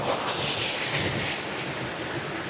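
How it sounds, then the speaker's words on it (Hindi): Rushing water from rain-fed streams and waterfalls along a hillside route near Nainital during heavy rain, a steady broad roar of flowing water with wind, heard continuously and without talk. "इतनी बारिश हो रही है कि पूरे झरने बने हुए हैं यहाँ"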